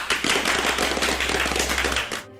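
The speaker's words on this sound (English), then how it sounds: "Round of applause." A crowd gives a round of applause during a livestream, loud, dense clapping and rattling that fills the moment and then cuts off abruptly near the end.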